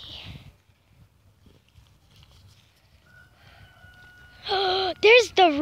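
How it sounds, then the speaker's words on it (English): A rooster crows near an alpaca farm by a lake, its loud call rising in two or three strained bursts at the end after a quiet stretch with a faint steady tone. "There's the rooster."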